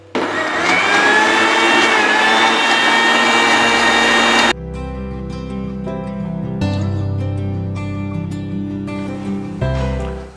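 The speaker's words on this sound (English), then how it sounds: "Now we'll blend the sauce." A blender whirs loudly through mint mayonnaise sauce with a couple of ice cubes, running steadily for about ten seconds with a sharp change in motor pitch partway through and no talking.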